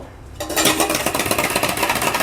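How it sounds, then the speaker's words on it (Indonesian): A whisk beats muffin batter with added milk in a bowl, a rapid rhythmic scraping and clinking that starts abruptly and continues steadily, close and fairly loud. "Dikocok sampai bercampur rata."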